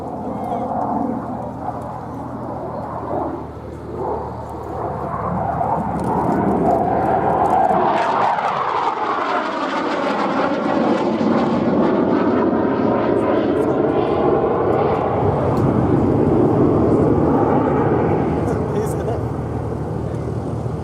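A Hawker Hunter T7 two-seat jet trainer, rebuilt from a 1955 single-seat F4, flies an airshow display at Duxford, its loud roar rising and sweeping past with a Doppler shift. A commentator talks over the noise throughout.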